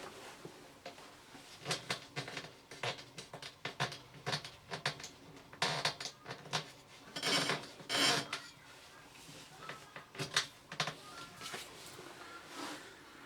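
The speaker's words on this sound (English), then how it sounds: "We're now going to tighten up the adjusters at the bottom." Bottom adjusters of a Lindam Easy Fit safety gate being tightened by hand, with quiet irregular rubbing, scraping and clicking bursts close by in a quiet room.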